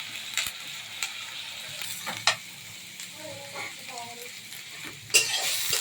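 Quail egg curry being stirred in a frying pan, with soft sizzling under repeated scraping and knocking of a spoon, close and fairly loud, with a louder clatter near the end.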